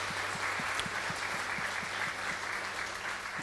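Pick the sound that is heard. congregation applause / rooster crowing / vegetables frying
congregation applause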